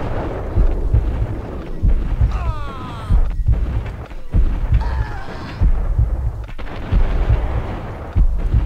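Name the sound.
gunfire in the video game Max Payne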